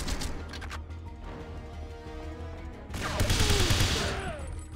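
Rapid gunfire crackles through a shootout in the 007 Everything or Nothing video game, with bursts of shots, a louder burst of fire with crashing impacts partway through, and no speech.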